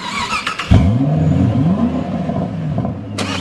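A friend's car engine revving hard as it's driven aggressively, a loud rising and falling roar with a sharp surge near the start and another burst at the end.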